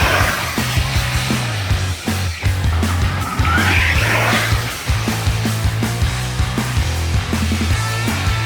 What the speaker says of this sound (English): So it does do drifts.